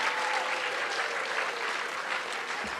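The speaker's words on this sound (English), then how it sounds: "A round of applause because they put so much work into this." Applause from a school recognition ceremony audience for office staff, a continuous wash of many hands clapping, moderately distant and even, with a few faint voices underneath.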